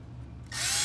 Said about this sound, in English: you're just drilling through the top board and a little bit into the spoil board